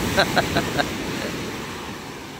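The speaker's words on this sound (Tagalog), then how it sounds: "Natatabunan ng alon yung dadala ng isda. Sa lalaki ng alon eh." Large sea waves crash at a fish port in Tanza, Cavite, a continuous loud surf roar with wind buffeting the microphone and a few short knocking sounds near the start.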